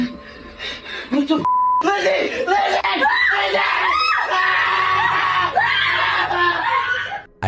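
A man screams loudly and repeatedly in a frightening night scene, drawn-out wavering cries rising and falling for several seconds after a brief electronic beep, with little pause between them.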